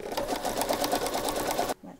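A sewing machine runs fast, stitching elastic on a fitted pocket with a rapid, even mechanical clatter, close and clear, then stops abruptly and is followed by a brief softer handling noise.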